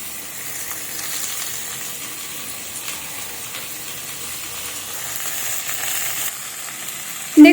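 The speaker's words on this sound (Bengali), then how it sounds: "আর দিয়ে দেব পেঁয়াজ কুচি, আর দিয়ে দেব টমেটো কুচি।" Chopped onion and tomato frying in a pan, a soft, even sizzle with light hissing steam, ending with a brief sharp clatter.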